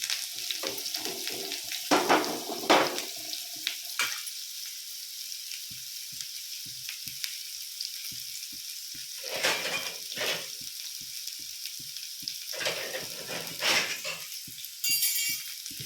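Onions frying in a pan with spice powder, a steady bright sizzle that swells in bursts as they are stirred, with a series of faint taps from the spoon in between.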